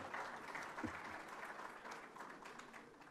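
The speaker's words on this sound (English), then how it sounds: "Je vous prie d'applaudir, s'il vous plaît." Audience applause at an IDA summit in Senegal attended by heads of state, heard as a steady, fairly quiet wash of clapping that holds evenly throughout.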